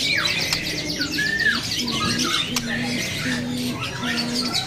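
A white-rumped shama gives repeated squawking calls and whistled notes close by, with people talking in the background throughout.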